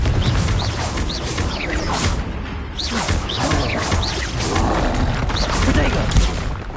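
Confringo fire spells blasting in the Hogwarts Legacy video game, a dense run of repeated loud bursts and crashes with mechanical clatter through a hectic fight, with voices shouting.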